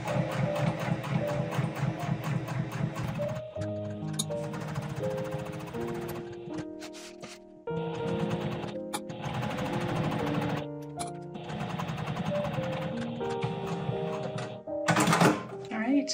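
A sewing machine stitches bag exterior fabric, lining and a zipper together in rapid mechanical bursts, pausing briefly between runs and then resuming, with a final clatter near the end.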